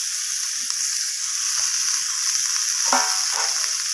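A steady, close sizzle comes from frying food with sugar and chopped coriander leaves, broken by a couple of soft scrapes and knocks of a stirring spoon.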